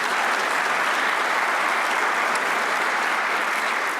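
An audience applauds steadily through the opening ceremony of the WHS Regional Meeting 2024, a dense and even wash of clapping from a large crowd with no voices on top.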